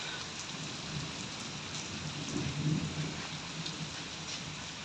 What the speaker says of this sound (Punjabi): ਮੀਂਹ ਬਹੁਤ ਆ